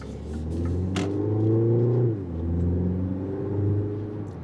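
A 2026 Mini Countryman S's 2-liter turbocharged engine revs up with a rising rumble, eases briefly, then pulls again, heard from inside the cabin.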